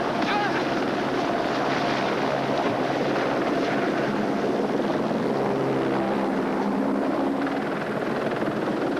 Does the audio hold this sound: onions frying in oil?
no